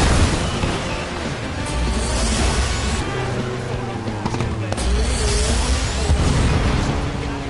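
Explosions in the Flatout 4 demolition derby video game: repeated booms and crashes over a constant engine roar, dense and loud, with someone talking over the din.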